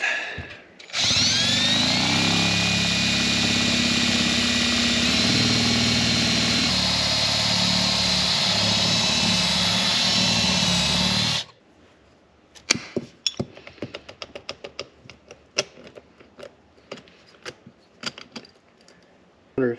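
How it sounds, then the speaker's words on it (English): A power drill whines loudly and steadily for about ten seconds drilling out the ignition lock of a Mercedes SL Pagoda, then stops, followed by scattered clicks, taps and metallic rattles. "Let's drill it, I guess."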